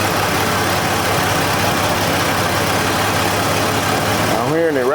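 A 1984 Mercury Capri engine idles loudly and close with a constant low hum and a busy rattling texture, with no talk over it.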